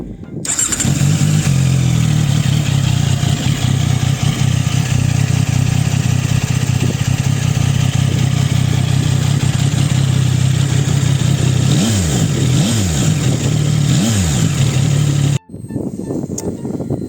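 A CFMOTO 675 SR-R sport motorcycle idles loudly and steadily with a deep exhaust rumble, then gets several quick throttle blips before the engine cuts off.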